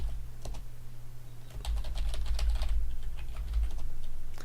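Keys clatter on a computer keyboard while a terminal command is typed on a Linux system. The close, quick taps come in uneven bursts over a low steady hum.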